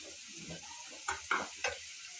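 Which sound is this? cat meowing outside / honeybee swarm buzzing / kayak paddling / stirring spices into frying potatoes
stirring spices into frying potatoes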